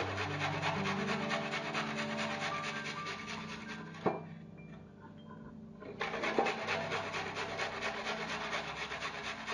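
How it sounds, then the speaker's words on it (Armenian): Two garlic cloves rubbed on a fine grater, a steady rasping scrape that pauses briefly around the middle, with a single knock, then resumes, close and fairly quiet. "մանր քերիչով քերում եմ 2 պճեղ սխտորը"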